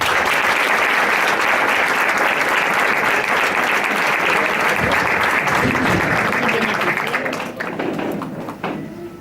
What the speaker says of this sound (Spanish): un gran aplauso para nuestro paisano